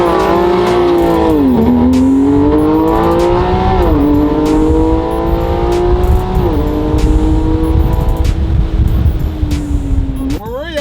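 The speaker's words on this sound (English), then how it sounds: "I like to just do a burnout anyhow." A twin-turbo V8 car doing a burnout, its engine revving in rising and falling sweeps over sustained tire squeal and roar, loud and close, with people talking underneath.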